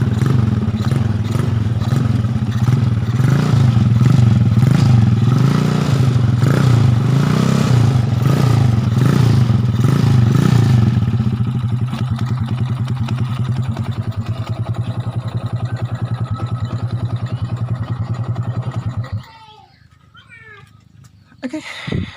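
A Honda Supra X motorcycle engine idles close by with a steady, chugging putter that holds for about nineteen seconds, then cuts out abruptly and leaves a few faint clicks and rattles.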